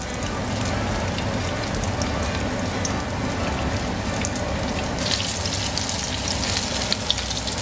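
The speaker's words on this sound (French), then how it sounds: "là, je les ai retournés pour cuire vraiment les deux côtés" Zucchini pancakes frying in a pan, giving a steady, dense crackling sizzle like light rain that carries on without a break, close and fairly loud, with no talking.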